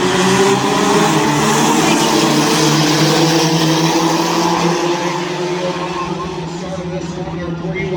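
Front-wheel-drive race cars at Adams County Speedway roar past with sustained engine drone and layered revving, loud and close at first, then easing slightly as they move away.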